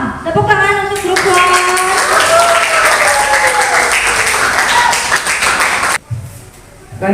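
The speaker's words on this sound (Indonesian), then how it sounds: "Big applause for group 1." Classroom group applauding a student group, steady broadband clapping filling most of the stretch with voices and singing tones over it, then dropping off abruptly near the end.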